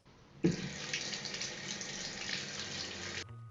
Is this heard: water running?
yes